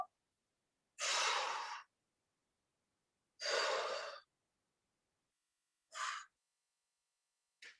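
Three long, breathy exhalations during a straddle stretch, each about a second long with pauses between, close and fairly loud, followed by a shorter fourth breath.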